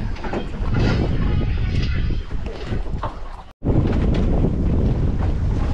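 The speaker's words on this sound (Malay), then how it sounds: "Angin padu guys." Strong wind buffets a fishing boat out at sea on a red snapper trip, a loud, constant roaring rush of gusts over the microphone with water noise beneath, broken by one brief dropout.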